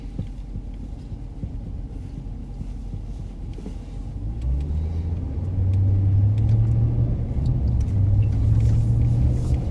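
A police patrol car drives along with a steady, close low engine rumble and road hum that grows louder and deeper about halfway through; nobody speaks.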